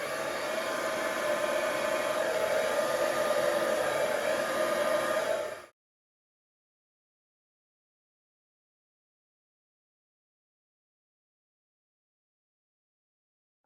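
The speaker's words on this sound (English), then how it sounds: "I'm going to blow a bit of the colour more into the gold section" A hair dryer blows across wet acrylic paint in a Dutch pour, pushing colour toward a gold section before a swipe; a steady close airflow roar runs for about six seconds, then cuts off to silence.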